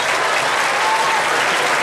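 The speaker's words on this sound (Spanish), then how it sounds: "Fuerte el aplauso, por favor," Audience applause at a lively outdoor festivity: a dense, loud, continuous wash of clapping from a crowd, unbroken for about two seconds with no voices on top.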